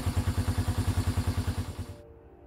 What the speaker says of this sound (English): But I think we've got a good running bike here now.